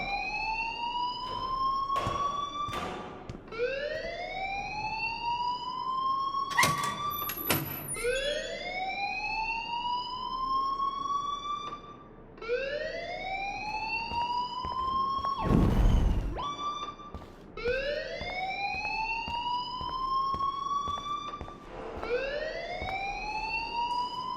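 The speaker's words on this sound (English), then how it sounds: "please turn off that alarm since that's your job." A school fire alarm in the video game Life is Strange sounds a loud, repeating rising whoop, cycle after cycle. Occasional knocks and a heavier thump cut through it.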